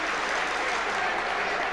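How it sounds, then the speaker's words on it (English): Crowd applause at Griffin Park during a 1988 Brentford versus Port Vale football match, a dense steady wash of clapping from a large stadium crowd filling the short moment without a break. "to the applause of the crowd here at Griffin Park"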